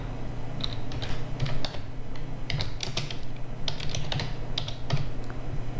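Steady keystrokes on a computer keyboard while entering Python string code, a continuous close run of clicky taps with no talking.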